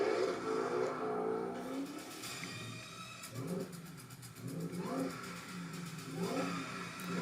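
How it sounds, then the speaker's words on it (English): A Shelby Mustang's engine rumbles low and fairly faint in the background, a steady throaty drone with a few swelling pulses of revving over about seven seconds. "You can hear the Shelby rumble in there."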